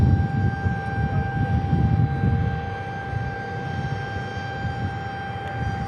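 Aircraft jet engines spooling up at Tucson airport at night, a continuous high whine over a broad low rumble, steady and moderately distant with no talking.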